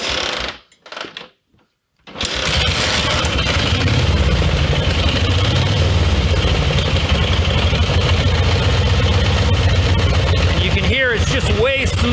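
A vintage Harley-Davidson with a side step-start and low compression is kicked over, a few uneven thumps and a pause, then catches and settles into a loud, steady, smooth idle close by, with talking over it.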